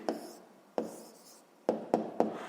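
A pen writes down the answer to a fifth-grade math exercise, giving five distinct tapping strokes spaced irregularly, close and soft, with a faint background behind them.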